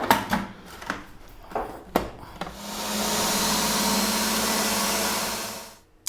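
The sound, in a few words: blender making a marinade paste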